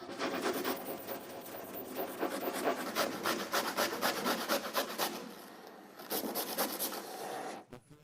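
Potatoes are grated on a fine grater for potato pancakes, a quick rhythmic series of close rasping strokes that pause briefly before resuming.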